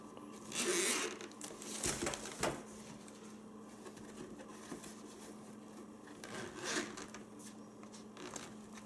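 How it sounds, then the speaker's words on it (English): Zippers being pulled open around the sides of a fabric carrying case for a Brio wooden toy railway set, with several soft rasping zip strokes and rustling of material, close but quiet. "you can see that it's got some zippers to unzip here"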